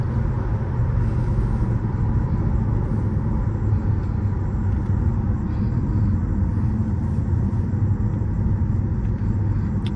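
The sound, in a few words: Mercedes-Benz CLS 55 AMG supercharged V8 accelerating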